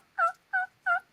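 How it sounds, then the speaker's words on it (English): A turkey hunter makes three evenly spaced yelps on a turkey call. The yelps are close, clear and sharp, with short silent gaps between them. "That's a turkey call."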